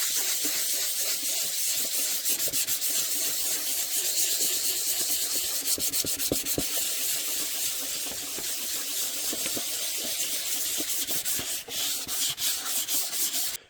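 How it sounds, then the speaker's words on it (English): Wet sanding with 320 grit sandpaper on Bondo filler during a Jupiter 2 model build: steady back-and-forth scratchy rubbing strokes, close and continuous, with a wet hiss, ending in a few quicker strokes and a stop. "One thing about wet sanding is"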